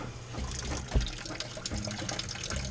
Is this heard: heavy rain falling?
no